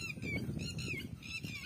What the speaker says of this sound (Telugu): ఆ పిట్టల సౌండ్ వినిపిస్తుంది